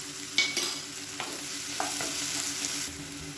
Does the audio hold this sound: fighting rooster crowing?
no